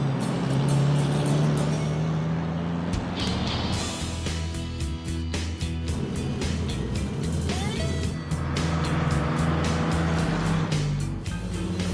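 Chevy car cruising down a road, its steady engine drone and tire rumble continuous and close throughout, with a few brief clicks and rattles over the top.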